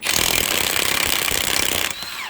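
A battery-powered impact tool hammering at reverse-thread lug nuts on the axle of a 1947 Ford, a loud, rapid, continuous rattling burst at close range that stops abruptly near the end.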